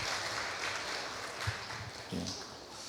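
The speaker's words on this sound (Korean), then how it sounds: "우리 다시 한번 우리 박수로 감사의 마음을 표해주시면 감사하겠습니다" Faint applause from a church congregation during a Sunday service, a soft, diffuse patter of clapping heard at low volume in the hall.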